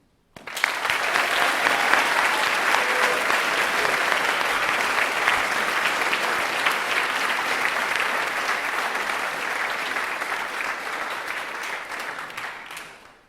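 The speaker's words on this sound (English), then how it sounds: "I'd like to express our gratitude with a round of applause for all the work that they've done" A large audience at a conference closing ceremony applauds steadily, a dense, even wash of clapping that starts abruptly, holds strong for over ten seconds and tapers off at the end.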